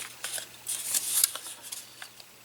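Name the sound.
scissors trimming the tip off paper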